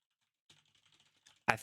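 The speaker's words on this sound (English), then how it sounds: "I'm typing as fast as I can" Fingers tap a computer keyboard in a quick, faint run of soft clicks, ending in one louder, close thump from a key or the desk.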